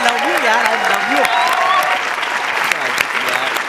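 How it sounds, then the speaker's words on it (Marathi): Loud applause from a wedding audience fills the space, steady and dense, with a voice carrying tonal, sung or spoken lines over the clapping throughout. "जोरदार टाळ्या झाल्याच पाहिजेत"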